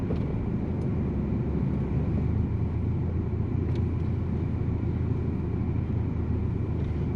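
A turbocharged Volkswagen Jetta drives on an icy winter road in a storm, giving a steady low engine and road rumble with constant loud cabin noise throughout and no talking.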